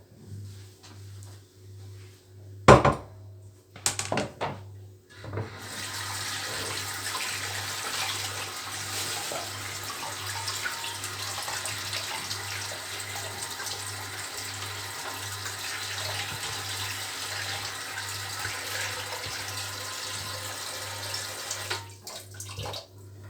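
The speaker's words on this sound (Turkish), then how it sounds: "Suyunu veriyorum." Water poured into spiced chicken in a clay güveç pot gives a steady, close pouring and splashing sound of about seventeen seconds, starting after a few brief clatters and a low constant hum and stopping near the end.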